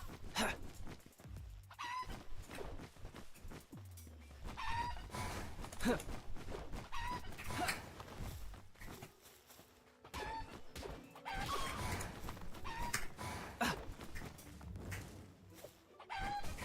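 Video game chickens cluck and squawk in repeated short bursts over a continuous busy background of game sounds, loud and close throughout.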